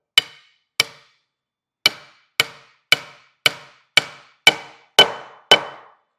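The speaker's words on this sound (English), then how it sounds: "I'm going to be tapping it down with my hammer" Sharp hammer blows tapping down a wooden post, ten evenly spaced knocks with a short pause after the first two, growing slightly louder and fuller toward the end.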